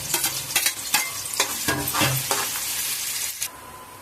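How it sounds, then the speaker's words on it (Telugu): Two or three thinly sliced onions frying in hot oil for a chicken fry, with a loud close sizzle and several sharp stirring scrapes early on, then a steadier hiss with no voices. "ఉల్లిపాయలు మనకు మంచిగా కొంచెం బ్రౌన్ కలర్ వచ్చే వరకు ఫ్రై చేసుకోవాలి."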